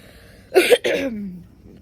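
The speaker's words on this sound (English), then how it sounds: "sorry for the coughing" A single harsh cough, a quick double burst followed by a rough exhale, close and alone.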